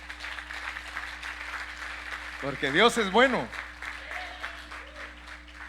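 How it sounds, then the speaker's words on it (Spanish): A church congregation applauds during a Bible study on Leviticus, a soft, steady patter of clapping beneath a voice that rises prominently in the middle. "Dele un aplauso a Cristo, hermano."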